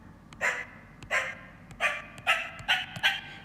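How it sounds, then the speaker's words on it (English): A sampled dog bark played on a keyboard in GarageBand, six short bark bursts in sequence, each pitched progressively higher, clear and fairly loud with brief gaps between. "you can hear those barks get higher."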